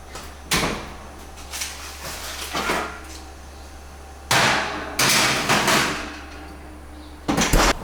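A pan of broccoli put into an oven, with several loud metallic clanks and bangs of the pan and oven door, close, spread unevenly over a low steady hum.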